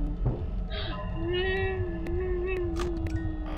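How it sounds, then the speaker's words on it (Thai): A cat meows with a drawn-out, wavering cry over a steady hum, while someone talks intermittently in the background. "แมว"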